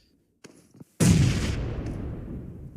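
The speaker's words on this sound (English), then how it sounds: "Nice nade from Silas." A grenade goes off in PUBG Mobile, one sudden loud blast with a long rumbling tail, after a short stretch of near silence and faint clicks.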